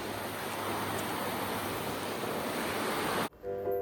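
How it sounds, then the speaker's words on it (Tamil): Creek water runs under an iron bridge on a hiking trail at Little Yosemite in California, making a steady rushing wash that cuts off abruptly near the end. "இந்த இரும்பு பாலத்துக்கு கீழே தண்ணி ஓடிட்டு இருந்துச்சு, ஓடை தண்ணி."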